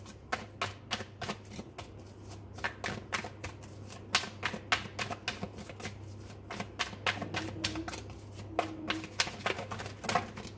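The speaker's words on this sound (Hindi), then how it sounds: "चलिए अब कुछ टैरोट से कार्ड निकालते हैं और देखते हैं यहाँ से क्या आता है" Tarot cards are shuffled and drawn by hand, with quick bursts of riffling and sharp, close card slaps in an uneven rhythm and no talking.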